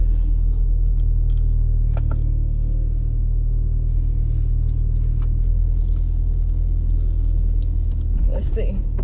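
A car pulls out of a home driveway with a loud, steady low engine rumble that holds throughout, with a few faint clicks and knocks on top and a brief louder rattle near the end.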